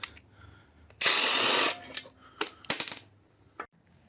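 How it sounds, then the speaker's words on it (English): Lug nuts come off a front wheel of a BMW X3 E83 with a 17 mm socket: one loud, sustained burst of tool noise, then several sharp metallic clicks and clatters, close and quiet in between. "17 millimeter, take off the lugs."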